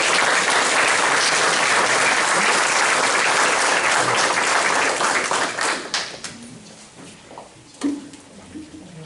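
School-board audience applauding AP scholar students, loud dense clapping from a full room that holds steady for several seconds, then thins out into scattered claps and a few faint voices.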